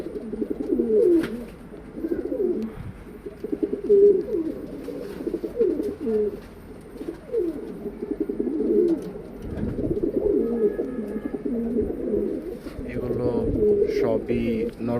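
Several white pigeons and others cooing in a loft, repeated close, low throaty coos overlapping one another, with someone speaking over them.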